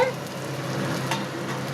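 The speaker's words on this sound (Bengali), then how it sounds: "এখানে উচ্ছে ভাজা হচ্ছে উচ্ছে না এটা করলা ভাজা হচ্ছে" Bitter gourd (karela) frying in a pan at home produces a brief, moderate sizzle and hiss, close by and steady, for under two seconds.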